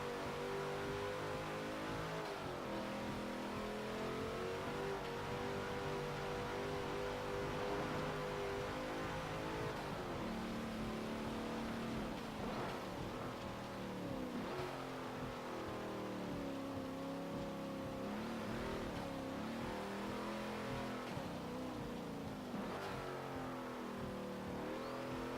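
Simulated 2017 Ram 2500 Power Wagon pickup engine in Forza Motorsport 7, revving loudly and continuously with rising and falling pitch through gear changes, alone for the full length.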